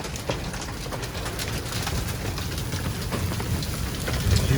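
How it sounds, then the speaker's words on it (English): Hail and heavy rain pelt down outside during a strong storm, a dense steady patter of hard impacts with occasional louder cracks, and no talk. "we've got some definite hail coming down"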